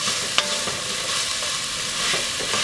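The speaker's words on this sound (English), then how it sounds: "Just saute that for a little bit so I can start smelling that garlic." Two cloves of garlic sautéing in a pan for pork and Hatch chile stew, a steady, loud, close sizzle and crackle that runs throughout with a faint stir or tap near the start.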